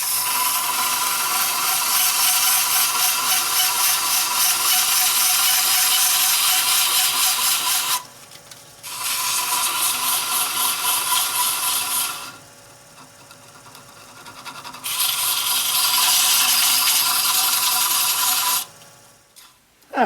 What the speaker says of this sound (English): so we've done our sanding here